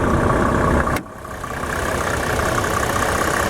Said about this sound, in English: Inline 6-liter engine is just purring away like brand new.